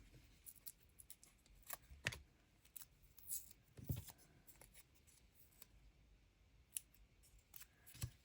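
Scissors snipping paper for a junk journal craft, a series of quiet, crisp cuts spaced irregularly over several seconds, close and alone.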